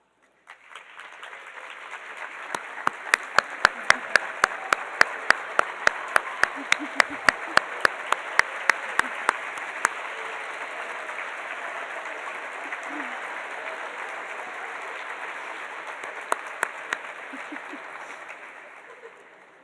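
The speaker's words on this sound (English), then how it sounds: "please stand and let us recognize you with a round of applause" Sustained applause from family and friends at a physical therapy white coat ceremony, a dense steady wash of clapping lasting nearly twenty seconds, with a few sharper nearby claps standing out early on and again near the end.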